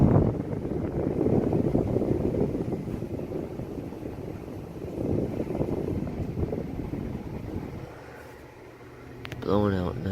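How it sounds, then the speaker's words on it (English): A 2002 Lennox gas furnace pushes air through a small vent in a closet area of a summer house, a steady close rushing whoosh that eases slightly near the end as a voice speaks over it. "and there's a little vent right here."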